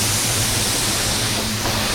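Automotive sealer sprays through a 3M Performance gun with a 1.4 tip as a continuous, loud broadband hiss that holds steady from start to finish, with no voices.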